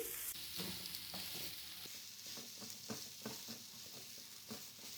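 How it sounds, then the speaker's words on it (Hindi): Mashed potatoes stirred into roasted spices in a pan for aloo kabab, a soft continuous sizzle broken by regular spatula scrapes, quiet and close, with no voices. "जो हमने आलू मैश करके रखे थे वो अब ऐड कर देंगे। अच्छे से हम मिक्स करेंगे।"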